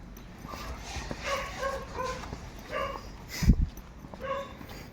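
A dog yips and whimpers a few times in short bursts over a steady background hum, moderately close, on a residential street in Lagro, Quezon City.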